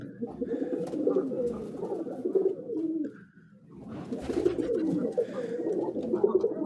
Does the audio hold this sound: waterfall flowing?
no